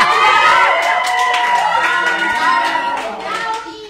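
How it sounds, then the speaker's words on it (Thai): A crowd at a live lottery prize-draw broadcast cheers and claps, a loud dense wash of applause and excited shrieking voices that fades slightly toward the end. "ทำไมเวลาเราพูดถึงจังหวัดอำเภอสะเดาทุกคนต้องกรี๊ดกราดดีใจ"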